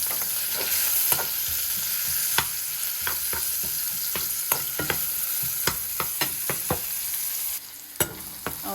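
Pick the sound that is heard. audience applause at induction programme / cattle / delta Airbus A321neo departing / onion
onion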